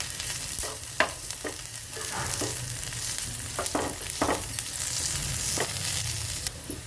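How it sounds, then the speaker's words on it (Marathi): Garlic frying in a small amount of oil until crisp, a close, steady crackling sizzle with intermittent spatula scrapes and taps, no voices. "हे पहा लसण आपला छान परतला आहे"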